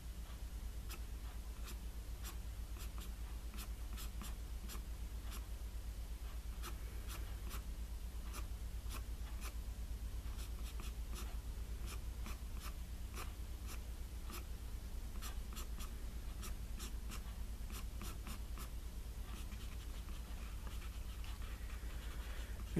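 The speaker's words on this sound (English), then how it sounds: "Just by flicking the eraser pencil." An eraser pencil flicks across paper to draw wispy cirrus clouds, making a long, steady run of quick, dry scratchy strokes close up with no talking.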